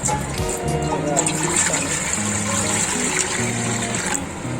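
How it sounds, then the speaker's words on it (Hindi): Water pours steadily into a steamer pot, roughly a litre, for a chicken steam roast, a continuous close splashing and filling rush with background noise throughout. "इसमें मैं पानी डालूँगी इसमें"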